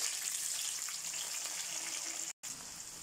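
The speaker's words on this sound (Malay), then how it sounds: "Okey, sekarang minyak kita dah panas ya. Terus kita nak masukkan bawang kecil ya." Small shallots frying in hot oil give a steady, close broadband sizzle and hiss that runs unbroken except for one brief dropout near the end.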